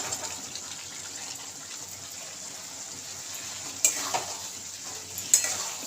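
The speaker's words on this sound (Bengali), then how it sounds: "এবার আমি সেদ্ধ করা চানাগুলো দিয়ে দেবো।" Boiled chickpeas hit a sizzling, fried spice paste in a pan, giving a soft, steady frying hiss with a couple of sharper clatters and scrapes near the end.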